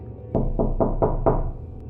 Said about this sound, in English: Then there was a knock.